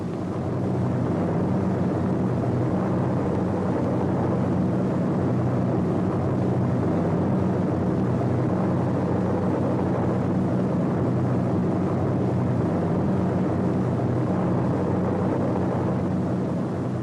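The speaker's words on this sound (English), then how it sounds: "As these gliders and their tow planes head into France, C-47s, which already have dropped their gliders, pass on their way back to England." Heavy, continuous drone of C-47 transport planes and glider tow planes flying over the Channel toward France, a dense steady engine roar with no breaks and no voices.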